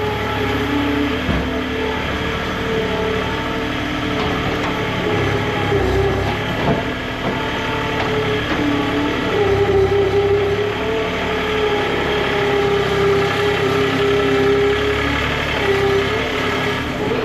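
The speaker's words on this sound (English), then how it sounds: "So Brent's just doing that mostly with the skid steer." A skid steer driving inside a barn, its engine a loud, steady, droning rumble with a faint whine riding on top, continuous throughout.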